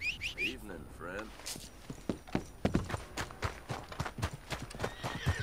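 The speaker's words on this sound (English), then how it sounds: "What is my horse doing over here?" Horse hooves clip-clopping on the ground in the video game Red Dead Redemption 2, a steady close walking rhythm with a neigh early on, while someone talks over it.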